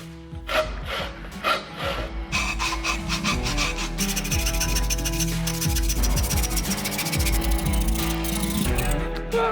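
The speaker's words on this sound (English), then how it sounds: "I just want to use a handsaw." Handsaw cutting by hand with rhythmic rasping strokes, close and loud, steady back-and-forth rhythm through the whole stretch.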